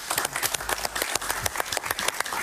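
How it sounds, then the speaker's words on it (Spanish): TV talk-show studio audience applauding steadily, a dense wash of many hands clapping close and loud for the whole stretch, with no talk over it. "Un aplauso para él, por favor."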